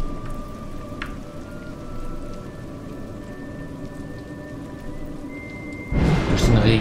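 Steady rain hiss in a video game, A Juggler's Tale, with pattering drops, joined near the end by a louder burst of heavier downpour or rumble.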